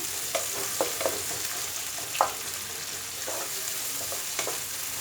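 Stuffed ladies finger and onion masala fries in a pan with a constant close hiss, while a spatula stirs and knocks against the pan in scattered scraping strokes, no voices present.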